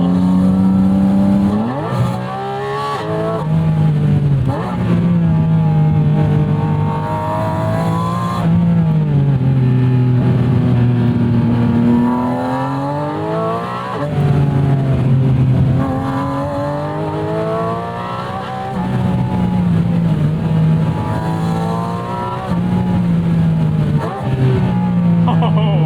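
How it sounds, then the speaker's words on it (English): A Porsche 718 Spyder engine revs loudly through repeated gear changes, the pitch rising and dropping again with sharp blips on each downshift, close and continuous throughout. "Such downshifts."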